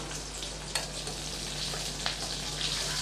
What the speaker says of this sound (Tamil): ஒரு கைப்பிடி சின்ன வெங்காயம் கட் பண்ணி வச்சுருக்கேன் அதையும் சேர்த்துடலாம் சேர்த்து நல்லா வதக்கி விட்டுடலாம்